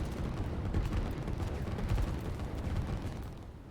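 Artillery in a real-time strategy video game rumbles in a dense, low barrage of overlapping booms and thuds, fairly faint and continuous.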